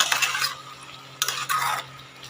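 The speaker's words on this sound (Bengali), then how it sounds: "দিয়ে ভালো করে আমি নেড়ে চেড়ে নেব বন্ধুরা ভালো করে মশলার সাথে মিশিয়ে নিলাম" Vegetables and spices being stirred in a pan: a near, fairly loud bout of scraping and clattering utensil strokes in irregular bursts over a low sizzle, with no voices.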